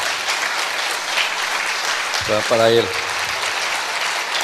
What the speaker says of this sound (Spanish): si esos aplausos son para el Señor, pues tendrían que ser más fuertes